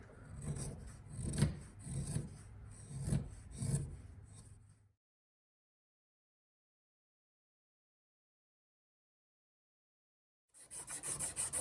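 Sharp chisel scraping along the edges of a wooden fishing lure in a few short rasping strokes, quiet and close, then a long silence before the scraping resumes briefly at the end.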